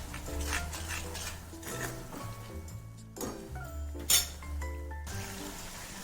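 Onion gravy paste going into a hot pan for Mehsana-style tuver totha and being sautéed, with steady stirring and scraping of a utensil against the pan and occasional metallic clinks, fairly close with a soft sizzle underneath.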